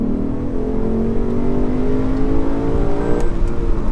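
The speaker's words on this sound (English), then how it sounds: "The sound of the car gets a little bit louder" A Lexus RC F sports car engine revs loudly and steadily, its pitch climbing gradually over a few seconds, close and without talk.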